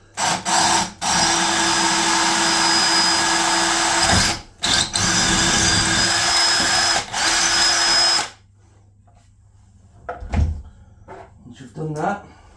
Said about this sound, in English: With your drill bit, just press slightly until you hear a little noise. That's the tile.